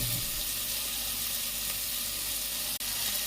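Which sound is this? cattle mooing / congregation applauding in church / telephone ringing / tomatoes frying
tomatoes frying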